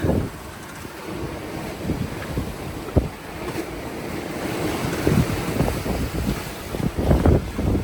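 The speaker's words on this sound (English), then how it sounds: "Is it a squall or something? I think we'll get it a squall. Wind's picked up pretty strong." Strong squall wind roars across the microphone aboard a 28 ft sailboat alone at sea, with waves sloshing and breaking against the hull in loud, uneven surges throughout.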